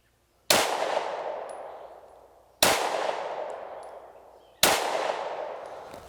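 Three separate shots from a Smith & Wesson 30 Super Carry pistol ring out about two seconds apart, each a sharp, loud crack followed by a long, fading echo at an outdoor range, with no talking.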